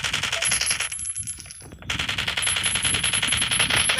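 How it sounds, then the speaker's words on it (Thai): Rapid bursts of automatic gunfire in the video game Last Day Rules: Survival crackle continuously, broken by a short pause before the firing resumes, loud and close with bright metallic ringing. "แล้วแมนยิงกูด้วยนะ"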